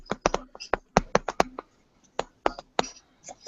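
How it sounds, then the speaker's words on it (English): Irregular bursts of sharp clicks, like keys being struck in quick clusters with short pauses, fairly close and moderately loud. "Who was doing all that typing?"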